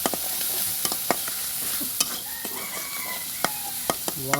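Broiler chicken coated in chili powder, ginger paste and spice paste is stir-fried over a clay stove fed with firewood. A spoon scrapes in sharp, irregular clicks over a constant sizzle, with no one talking.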